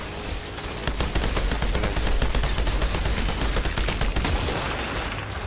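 Sustained bursts of enemy gunfire in the shooter game Outriders, dense rapid rattling shots that run almost continuously, loud and close, with no voices over them.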